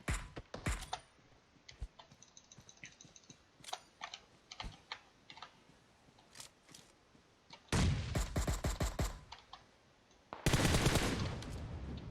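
Gunfire in PUBG Mobile, scattered single shots early, then two loud rapid automatic bursts near the end, close and sharp against a quiet background.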